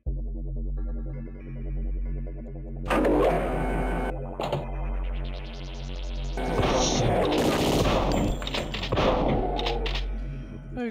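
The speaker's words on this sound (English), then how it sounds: "they shoot me faster than I can shoot them with the shotgun" A video game firefight with a shotgun, heavy booming blasts and crashing impacts over a droning game backdrop, several loud shots clustered in the second half amid chaotic noise.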